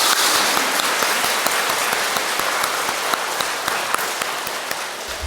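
A church seminar audience claps loudly together, dense rapid applause that holds steady for several seconds and fades slightly toward the end.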